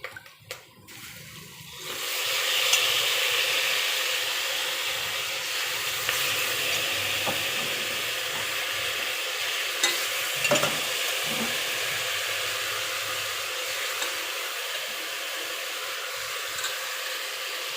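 Chicken pieces fry for curry in a hot pan, a steady loud sizzle that rises after a brief start and holds evenly, with occasional scrapes and clinks as the mixture is stirred up and down.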